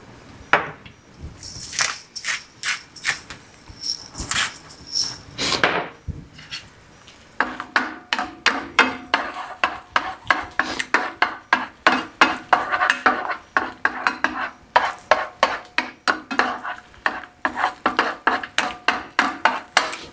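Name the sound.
scrambling eggs on a griddle for garlic fried rice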